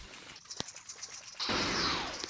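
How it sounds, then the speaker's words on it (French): Steam-powered blasts from the Roblox game Shindo Life: a sharp crack, then a loud, sustained roaring burst of hissing explosion that fills the second half. "Je sais pas non plus d'où il sort des explosions pareilles avec de la vapeur"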